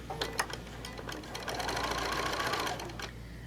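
A sewing machine stitches across quilt blocks in a steady, fast mechanical whir lasting a couple of seconds, preceded by a few light clicks and taps, close and moderately loud with no talking.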